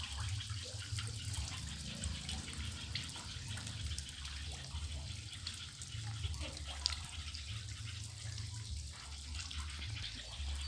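Water pours steadily out of a fish pond on a Thai farm, a continuous broadband rush and splash with no break, fairly close and unaccompanied by talk.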